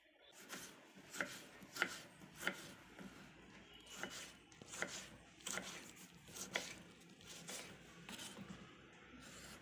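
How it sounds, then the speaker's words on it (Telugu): Tomato finely chopped on a board with a knife, a quiet, close run of about a dozen crisp knife taps at a steady, slightly uneven rhythm. "టమాటా కోసుకుందాం సన్నగా."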